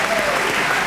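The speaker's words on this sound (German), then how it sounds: "Also, da kann man applaudieren." Applause from a TV studio audience during a celebrity boxing bout, a steady dense clatter of clapping hands filling the space, loud and continuous throughout.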